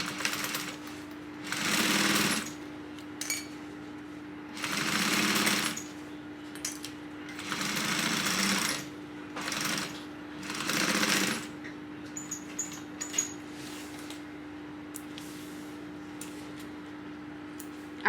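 A sewing machine stitches a 3/8-inch seam on a tote bag in several short bursts of buzzing, separated by pauses, with a faint steady hum and small handling clicks between runs.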